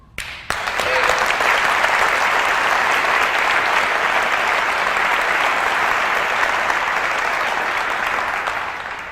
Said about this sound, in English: that's the thing that's gonna get the loudest clap so far from this conversation